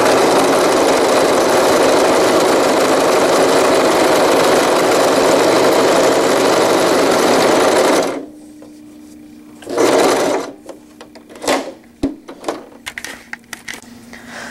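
A sewing machine stitches a zippered wetbag with a loud, steady motor whir that runs for about eight seconds, then stops, followed by quieter clicks and brief handling noises.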